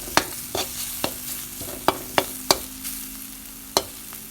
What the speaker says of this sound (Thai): คั่วน้ำพริกก่อนนะครับเนาะ โซนนะครับ ให้มันหอมนะครับเนาะ